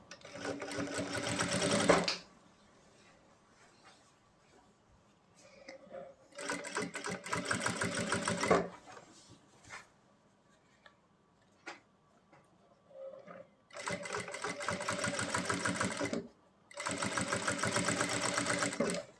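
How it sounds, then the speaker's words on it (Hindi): Electric sewing machine stitching the neck seam of a kurta, running in four loud bursts of about two seconds each with quiet pauses between and faint handling noises. "ये एक सिलाई लगाएंगे ऐसे।"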